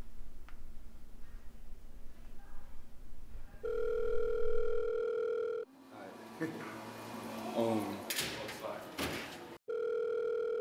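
Telephone dial tone when placing a call, a steady electronic tone sounding alone for about two seconds, then returning near the end after a stretch of busier noise and clicks.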